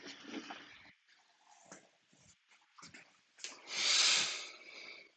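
A dog snorts and breathes close by in several short, uneven bursts, ending with a louder, longer snuffling exhale.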